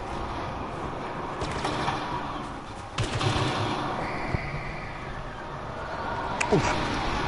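Gunfire from the video game Star Wars Battlefront: rapid blaster shots and bursts crackle over a continuous background of battle noise, with a sharp louder burst near the middle and a whooshing pass near the end.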